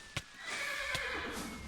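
A horse in the Minecraft Hexxit modpack gives a long wavering neigh lasting over a second, loud and close, with a couple of hoof-like knocks around it and no talking.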